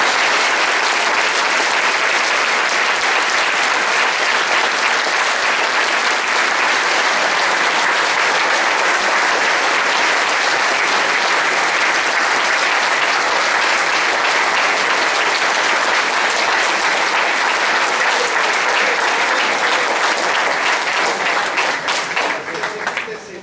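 Loud, sustained applause from a large political rally crowd welcoming the families of 52 victims, dense clapping filling the whole stretch without pause and tapering slightly at the very end.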